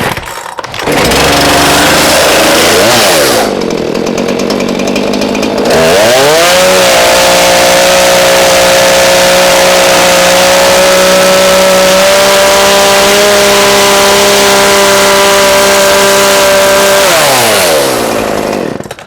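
A gas chainsaw over-accelerated while cutting wood with too much pressure: the engine revs up loud, briefly drops, then holds a high strained whine for over ten seconds before winding down.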